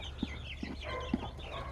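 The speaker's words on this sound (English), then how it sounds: "In here we have our egg layers mixed with our 35 meat birds." Egg-laying hens mixed with Cornish cross meat chickens make a few short, close clucks over a low background hum.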